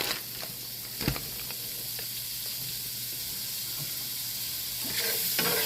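Peppers and onions sizzle in oil in a pan, a steady broadband hiss throughout with a few sharp stirring clicks and scrapes near the start and end, close and moderately loud with no talking.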